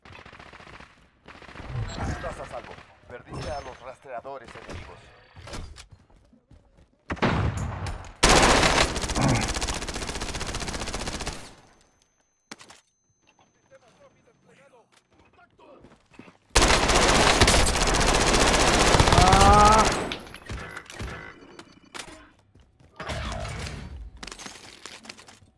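Heavy automatic gunfire in the battle royale Call of Duty Warzone comes in two long, loud continuous bursts, each several seconds, separated by quieter stretches of footsteps, gear and scattered game sounds.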